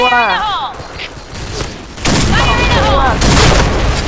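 In the shooting game Point Blank, played with Barrett M82A1 and Tar 21 rifles, a loud, dense burst of gunfire and booms erupts midway and keeps going, while voices talk over the first part.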